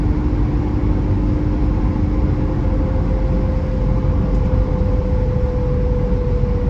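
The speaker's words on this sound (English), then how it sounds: "You can actually hear that sort of the beautifully sonorous straight six making a nice sound in front of you." A 1982 BMW E21 320 straight-six with a 3-speed automatic runs steadily nearby, a smooth, continuous engine hum with a constant tone and no talking.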